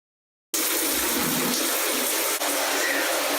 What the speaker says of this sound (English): It's the shower with the sliding door.